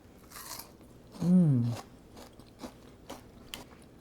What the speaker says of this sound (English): It's a nice crunchy center.